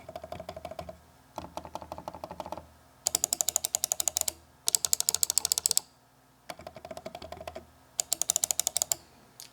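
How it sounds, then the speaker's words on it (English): Rapid mouse-button clicking on a Logitech MX Master 3S and an MX Master 3, heard as close, crisp click trains in separate bursts of a second or two, some bursts softer and duller, others sharper and brighter, with short silent gaps between. "here's a quick demo on the difference when you're clicking with the 3S and the 3 again"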